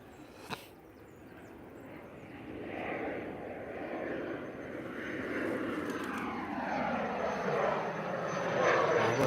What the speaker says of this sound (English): there's that little EasyJet, Cessna Citation